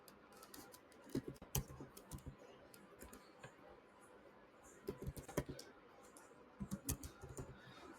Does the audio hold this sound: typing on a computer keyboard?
yes